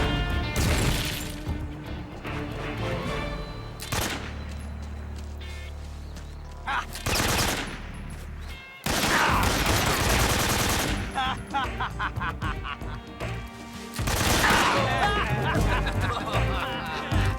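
Rapid bursts of gunfire and crashing impacts in Metal Gear Solid 3, loud and dense in several volleys separated by brief quieter gaps, with game music or effects running underneath.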